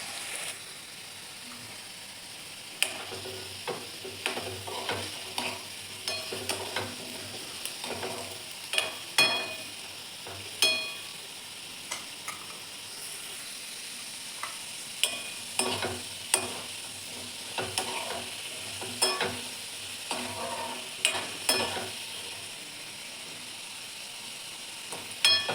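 Potato pieces fry in a pan for a Marathi-style potato dish, giving a steady close hiss and sizzle with frequent sharp scrapes and taps of stirring scattered throughout.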